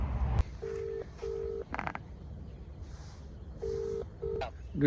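A phone call is dialed on a mobile, producing a short sequence of distinct keypad beeps in two pairs, separated by a brief rustle and a muffled thump, quiet and near.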